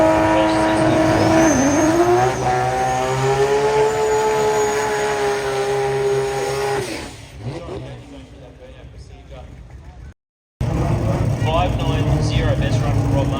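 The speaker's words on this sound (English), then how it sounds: "Getting the sounds of the racetrack." Race cars roar loudly past at a drag racing track in Brisbane, a sustained engine howl rising in pitch before cutting away abruptly, followed by quieter track noise and a commentator talking.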